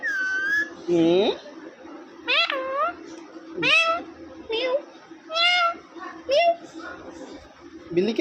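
A green parrot mimics a cat's meow, giving several drawn-out, rising and falling meow-like calls at close range, with a person's voice heard between them.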